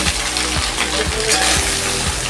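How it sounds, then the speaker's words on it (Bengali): Boiled soybean chunks frying in a pan give a loud, dense, continuous sizzle with a few dull thumps, heard up close with no talking. "আমি এবার সয়াবিনটা একটু ভেজে নিচ্ছি"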